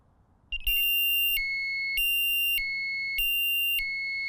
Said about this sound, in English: you get a very loud burglar alarm sounding